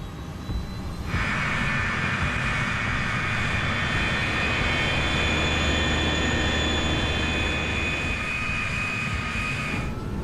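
Airplane engines drone loud and steady as the aircraft taxis toward the runway, a sustained whine that swells in after a second and holds to the end.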